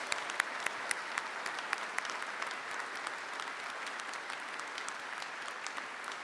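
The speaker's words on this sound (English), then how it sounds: "Let's have a round of applause for these Grand Lodge officers and their families." Audience applause for Grand Lodge officers and their families at a Masonic public installation ceremony, a dense, steady clapping from a large crowd that holds evenly throughout, heard at a moderate distance.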